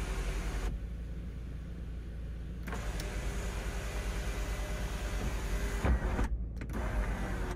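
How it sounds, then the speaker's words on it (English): The power sunroof of a 2014 Subaru Outback slides back with a steady electric motor whir over several seconds, ending in a few soft mechanical clunks, close inside the cabin. "we've got the sunroof for the vehicle. So it slides back."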